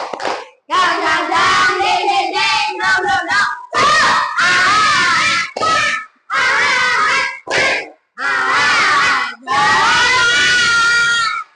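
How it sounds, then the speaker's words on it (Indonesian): Children performing the rhythmic tepuk semangat clapping chant at a school environmental project session, loud bursts of synchronized clapping mixed with shouted chanting in several phrases separated by brief pauses, close and energetic. "tepuk semangat!"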